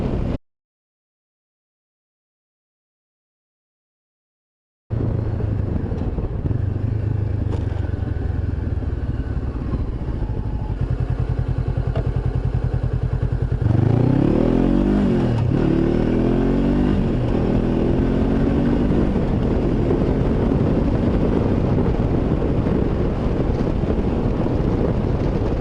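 Honda CB500X motorcycle on the move, a steady engine drone buried under loud, rushing wind buffeting at the helmet microphone, with a brief rise in pitch partway through as the rider accelerates; a silent gap opens the clip.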